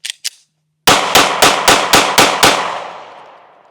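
A Taurus GX2 pistol fires six loud, sharp reports in quick, even succession after two small faint clicks, each crack ringing into a decaying tail, with no talk over the shots.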